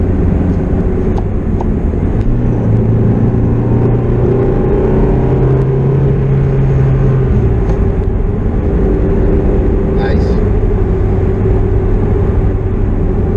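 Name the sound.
sports car engine during low-RPM torque pull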